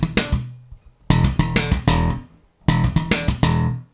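Slapped electric bass playing the second part of a riff: open E slaps, muted palm slaps and pops in two repeated phrases split by brief pauses, punchy, close and solo with no voices.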